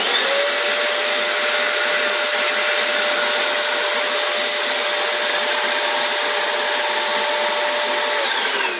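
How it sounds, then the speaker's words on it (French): A badly mounted turbine spins and rubs against its housing, producing a loud continuous whooshing roar with a steady high rubbing whine held throughout, close up with no talking. "la turbine étant mal montée, elle frotte"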